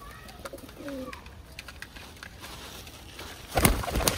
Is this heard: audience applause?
no